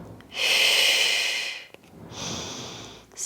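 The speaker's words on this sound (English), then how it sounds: "breathing deeply." Deep breathing during a reformer Pilates exercise: two long, close breaths, a strong airy inhale followed by a softer exhale, with a faint sniff between them and no talking.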